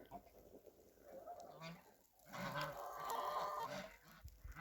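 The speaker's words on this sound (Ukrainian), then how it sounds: "Гуси, гуси ходять." Geese honking and cackling outdoors in a winter village in the Carpathian foothills, a scattered flock calling at moderate distance, growing busier and louder in the second half.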